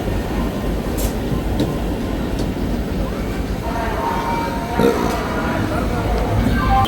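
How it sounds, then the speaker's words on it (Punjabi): A passenger express train pulling out of Ludhiana railway station rumbles steadily with a continuous low roar, occasional rattles and clanks breaking through, heard from close by. "ਆਪਣੀ ਜਿਹੜੀ ਟ੍ਰੇਨ ਆ ਲੁਧਿਆਣੇ ਤੋਂ ਚੱਲ ਪਈ ਆ"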